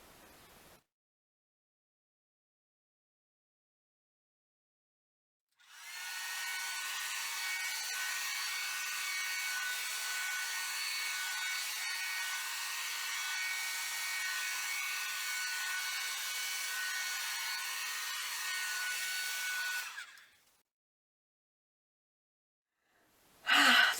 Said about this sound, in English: now I'm going to get my hairdryer and blow over it just as minimally as I can to see what I can come up with